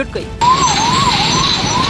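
Fire brigade vehicle siren at a paper mill fire, a loud close wailing tone rising and falling steadily over engine and road noise, with a voice briefly heard under it.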